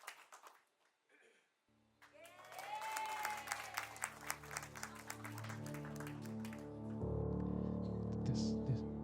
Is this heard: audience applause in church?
yes